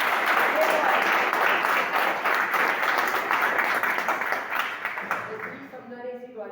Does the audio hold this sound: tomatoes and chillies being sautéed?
no